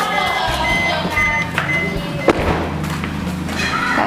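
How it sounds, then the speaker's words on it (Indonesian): A car or truck arrives at a construction project, its reversing alarm beeping in a repeated pattern over engine rumble, with a single thud partway through. "Kayaknya ada suara mobil deh."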